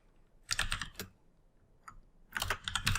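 Computer keyboard typing in bursts: a quick cluster of keystrokes, a pause with a couple of isolated taps, then another rapid flurry, close and fairly quiet with no voices.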